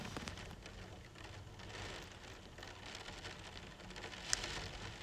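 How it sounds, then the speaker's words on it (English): Heavy rain falls in a continuous, fairly faint patter and hiss, with one brief sharp click near the end. "Heavy rain, guys."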